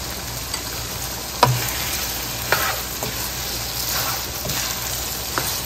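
Spicy homemade beef meatballs stir-fried with plenty of chili in a pan give a steady close sizzle, broken by a few sharp scrapes and clacks of the stirring utensil.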